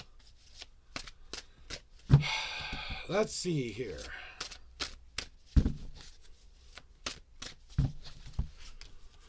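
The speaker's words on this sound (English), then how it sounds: "I'm going to give you a nice cleansing shuffle so that you can get your reading" Tarot cards are given a cleansing shuffle in a blunt reading session, with a series of crisp, sharp riffles and taps spread across the stretch, interleaved with a person talking nearby.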